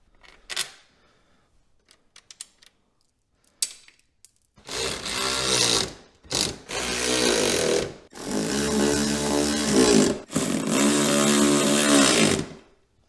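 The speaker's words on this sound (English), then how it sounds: "I've got some new hardware we're gonna go ahead and install to bolt this body down for good" New hardware bolting a Club Car golf cart body down for good, with a few scattered clicks and taps followed by four loud, close bursts of a whirring power driver, each lasting about one to two seconds, with no talking.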